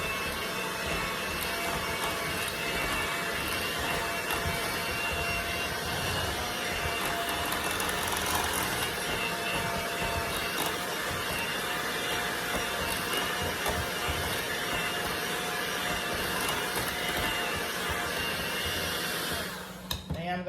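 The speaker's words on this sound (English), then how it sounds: "So I am going to go ahead and start whipping this up." An electric hand mixer whips sweet potato pie filling, giving a steady, continuous motor whir close by that runs unbroken for about twenty seconds before cutting off at the end.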